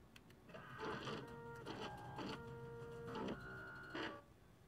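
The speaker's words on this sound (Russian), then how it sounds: "Слушайте, а звук как принтера раньше старого ленточного этого." A 3D printer in the video game Watch Dogs 2 prints with steady mechanical whirring, broken by repeated tonal bursts and stepper-motor warbles, fairly loud and alone with no talking.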